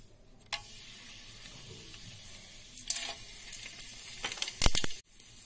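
Whole spices sizzle and fry in hot oil in a cooking pot for a veg biryani, a steady close crackle with a few sharper spits and stirring clicks, no voices.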